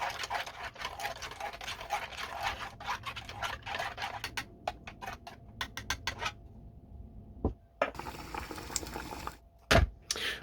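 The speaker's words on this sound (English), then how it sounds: "this has been boiling in the pot for 10 minutes." Water boiling in a pot heating a 1991 US military MRE pouch of escalloped potatoes and ham, a steady bubbling wash with scattered ticks and clicks and a few sharper knocks near the end, without talk.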